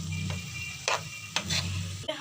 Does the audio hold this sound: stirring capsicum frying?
yes